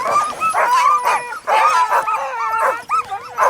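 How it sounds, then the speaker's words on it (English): Sled dogs at a race checkpoint after a 77-mile run, yipping, whimpering and howling excitedly in a close, continuous chorus of overlapping barks and whines. "Look at all the heat coming off those dogs."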